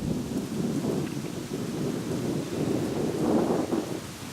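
Rain falls steadily at a cemetery in the morning, a continuous soft patter with low rumbling wind or distant thunder underneath and no talk.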